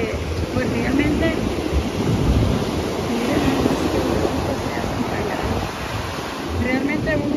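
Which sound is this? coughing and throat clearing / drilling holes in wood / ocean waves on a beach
ocean waves on a beach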